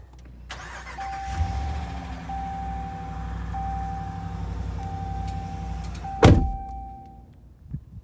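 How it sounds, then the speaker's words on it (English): A Hemi truck engine cranks and starts, settling into a steady idle hum with a sharp mechanical clunk near the end, close by. "Starting up the good old Hemi."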